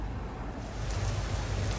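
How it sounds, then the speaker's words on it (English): A sudden burst of rain mixed with hail pours onto the ground outdoors on an afternoon run, a dense, steady patter and rush of noise throughout. "So here is the rain that literally came out of nowhere, and it is actually hailing."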